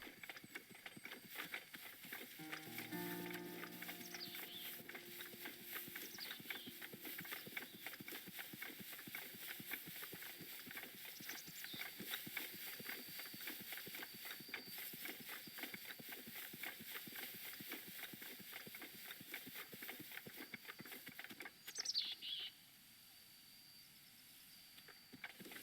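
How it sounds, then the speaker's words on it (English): Horses' hooves clip-clop steadily in the video game Zelda: Breath of the Wild, a continuous rhythmic trotting over ambient game sound that cuts off abruptly near the end. "They've got horses."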